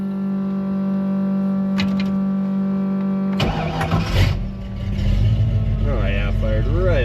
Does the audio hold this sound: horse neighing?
no